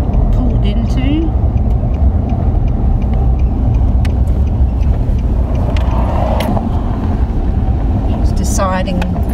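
A car drives into the Wangetti Beach South car park, its steady road rumble and engine hum filling the cabin throughout, with faint rattles and brief higher squeaks near the end.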